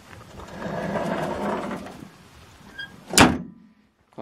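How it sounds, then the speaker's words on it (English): Bonnet catch on a 1977 Triumph Dolomite 1300 slams shut in a single sharp, loud metallic thunk near the end, preceded by a few seconds of faint background hum and shuffling. "Quite a nice bonnet locking mechanism on these as well."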